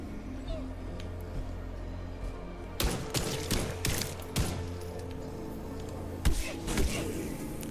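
Gunshots in the horror game Enigma of Fear: a cluster of sharp, loud shots and thuds in a quick uneven rhythm over a low hum, with one more shot soon after.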